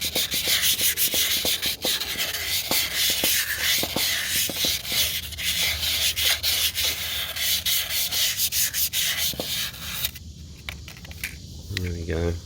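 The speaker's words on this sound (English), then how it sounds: "I'm just going to clean this shaft up." Steady abrasive rubbing as a brake shaft on a Troy-Bilt TB30 riding mower is scrubbed clean, a continuous close scratchy scouring with rhythmic strokes that stops near the end.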